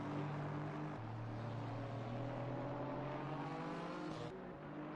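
A BMW GT4 race car in the Assetto Corsa Competizione sim racing game at Oulton Park, its engine droning steadily and shifting pitch near the end, fairly faint and alone.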